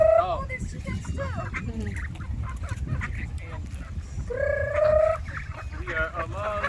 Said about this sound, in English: There's chickens too.